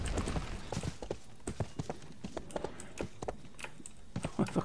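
Hooves of a horse mount clip-clop steadily in the video game RIFT, a brisk regular galloping rhythm, fairly quiet, with some keyboard tapping mixed in.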